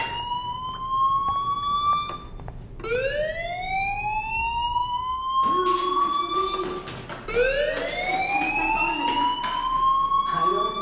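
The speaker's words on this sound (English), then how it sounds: "do you hear that fire alarm? That means you should be outside." A fire alarm rings in the video game Life Is Strange: a loud electronic tone that repeatedly sweeps upward in pitch, with several rising cycles that carry on steadily and close up.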